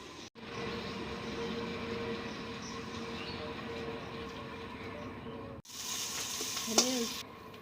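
Water taro (pani kochu) frying in a pan over a wood fire, a steady close sizzle that runs for several seconds, breaks briefly and resumes brighter, with a short clink near the end.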